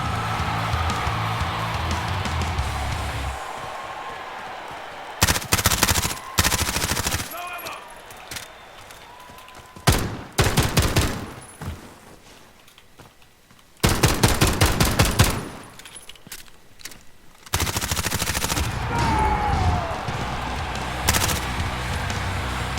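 An MP7 fires in bursts in Call of Duty Warzone: rapid, loud automatic volleys broken by short pauses, with someone talking between and over the shots.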